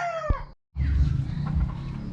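Chickens in a coop in the late afternoon: one short, loud, falling call opens, then a brief moment of silence, followed by a continuous low rumble of muffled clucking and movement.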